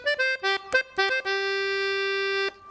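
An accordion on its simplest register plays a short run of clear reedy notes, then holds one long sustained tone, close and alone.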